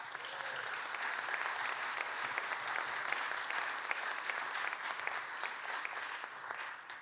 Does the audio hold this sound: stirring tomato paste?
no